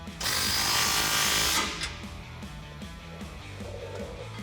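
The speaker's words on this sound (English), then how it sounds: "I'm gonna use my 18 socket on the bolt head and 19 socket on the nylon lock nut." A power tool, likely an impact wrench, drives an 18 and 19 socket onto a bolt head and nylon lock nut while fitting a front bumper to a 2018-2020 Ford F150, with one loud burst of about a second and a half followed by quieter clicking.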